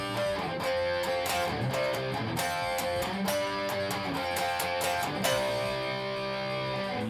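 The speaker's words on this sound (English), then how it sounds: "If I play a 1-4-5-4 progression, which is a major progression, all major chords, and I play it with fifths with no thirds" Electric guitar with light overdrive strumming a major 1-4-5-4 progression in power chords, fifths without thirds, chords changing steadily and sustaining at moderate volume.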